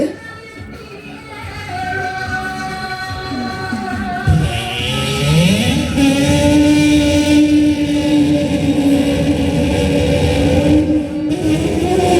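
Performer at a pumba street show during the Cheongdo persimmon festival imitating a car with the voice, a long sustained droning engine tone that dips and then sweeps upward into a steady rev. The imitation is loud and close.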